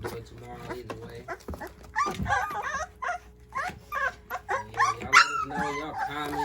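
Twenty-day-old puppies whimper and yip in a busy cluster of high, overlapping cries that rise in the second half, with a voice talking underneath.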